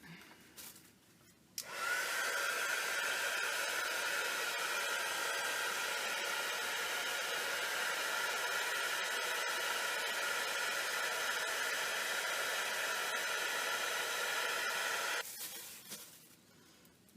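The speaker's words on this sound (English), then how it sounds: "if you use a heat tool, which does get really, really hot" A heat tool blows steadily to dry gesso on an inkjet image transfer, a constant close whooshing hiss that starts abruptly, runs for about thirteen seconds and then cuts off.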